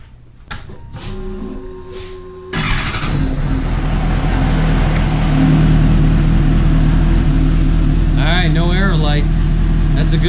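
A Suzuki GSX-S750 motorcycle engine with a newly fitted Power Commander V cranks over, catches and settles into a steady, loud idle close by. A voice speaks briefly over it.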